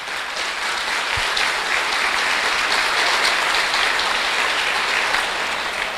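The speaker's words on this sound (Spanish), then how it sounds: "Un aplauso pues para el hermano." Steady crowd applause fills a church-style gathering as a guest is welcomed, a dense, even wash of clapping holding at constant loudness throughout with no talk over it.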